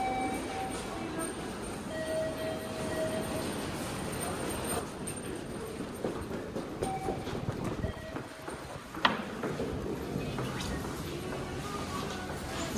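Inside a busy Tokyo train station, trains roll past in a steady rumbling wash of noise, with a crowd murmuring and brief clanks and tones rising through the din.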